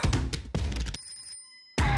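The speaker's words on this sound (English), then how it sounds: "I love the little like ringing tone." A bright, bell-like ringing tone with sustained high tones rings out between bursts of music in a music video, standing briefly alone before the full music returns.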